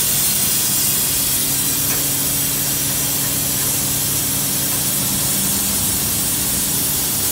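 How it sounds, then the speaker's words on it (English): Steady loud hiss of nitrogen gas rushing from an opened recirculator and discharge valve on a liquid nitrogen delivery trailer, a constant broadband roar with a low mechanical hum beneath, no talking. "Now we open up the recirculator and the discharge valve."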